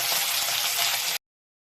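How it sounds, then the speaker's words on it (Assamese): A large fish frying in hot oil, a dense, even sizzling hiss heard up close that holds steady for about a second before stopping abruptly into silence. "ডাঙৰ মাছটো ফ্ৰাই হৈ গ'ল"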